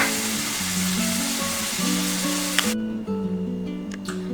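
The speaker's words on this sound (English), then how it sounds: "we are putting it on the non-stick pan." Iranian kebab meat sizzles steadily in a non-stick frying pan, a dense, even hiss that cuts off abruptly partway through, with soft tonal music underneath.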